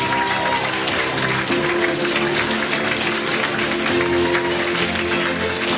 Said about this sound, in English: Keep her going with the applause.